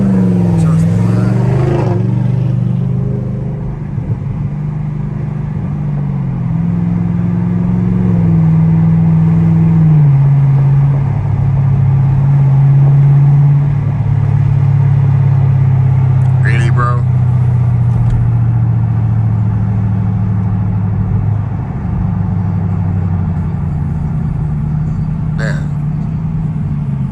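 Chevrolet Camaro ZL1 engine droning steadily and loud through a night drive, with shifting exhaust tone and a couple of brief sharp pops near the middle and end, under occasional talk.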